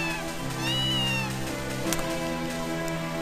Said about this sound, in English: they have lots of cats here